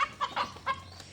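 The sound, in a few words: chickens clucking on a farm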